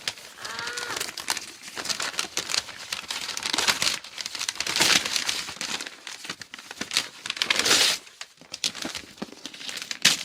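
Paper wrapping around a shoe parcel is crinkled and torn open close up, with dense, bursty rustling that swells in loud tearing bursts near the middle and end.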